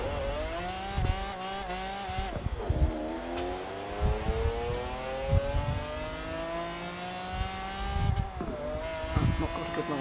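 An all-wheel-drive Bugatti Veyron launches and accelerates in Forza Horizon 4, its engine note climbing steadily and dropping briefly at two gear shifts, loud and continuous throughout.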